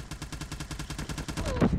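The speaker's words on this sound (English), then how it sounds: "I missed every single shot." A KN44 rifle in Call of Duty Mobile fires a rapid, evenly spaced automatic burst of about a dozen shots, close and sharp, ending with a brighter impact at the end.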